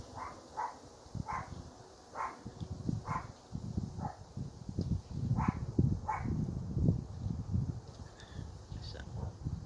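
A dog barks repeatedly in the distance outdoors, a series of short yaps spread across the stretch over steady low rustling and handling noise.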